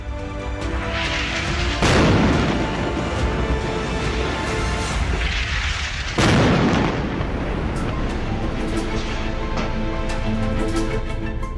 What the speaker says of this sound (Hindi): यहाँ पर इजरायली टैंक मार्कवा ने भी अंधाधुंध गोले बरसाए